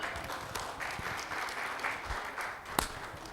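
Listeners at a talk on publishing a book applaud in a steady, fairly faint wash of clapping that runs the full few seconds, with one sharper clap standing out near the end.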